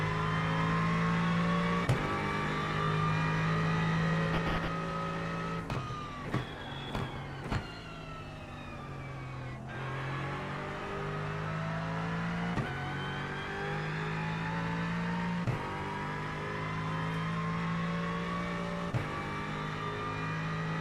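Aston Martin GT race car in the iRacing sim, its engine droning steadily with repeated rising revs and abrupt gear-change drops, loud and continuous with no talk.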